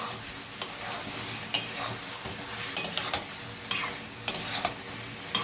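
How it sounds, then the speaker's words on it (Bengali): Fried broccoli stirred in a pan with a spatula, giving crisp, repeated scraping strokes roughly every second over a low sizzle, close and clear with no talk. "ভেজে রেখেছিলাম ব্রকলিগুলো দিয়ে দিচ্ছি, ভালো করে নেড়ে নিচ্ছি।"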